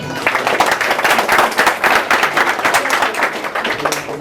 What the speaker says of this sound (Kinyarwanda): nabasaba yuko twomukomera amashyi menshi cyane